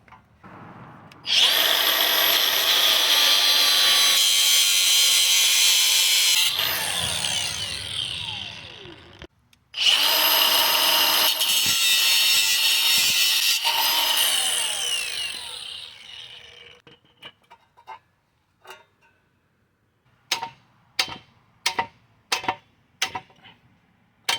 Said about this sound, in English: I'm gonna use this grinder here to cut it here.